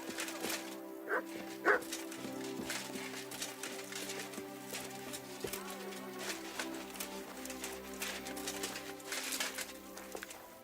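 A dog in the Kingdom Come: Deliverance II video game gives a couple of short, sharp barks early on, amid a busy medieval ambience of background music and distant voices.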